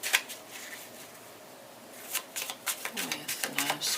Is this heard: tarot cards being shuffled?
yes